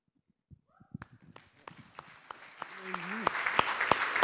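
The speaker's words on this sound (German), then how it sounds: "Ein großer Applaus für Sound to MIDI" Audience applause after the Sound to MIDI team's presentation at the Jugend hackt youth hackathon in Munich in 2022. It begins as a few scattered claps and knocks and swells into dense clapping, with brief voices murmuring underneath.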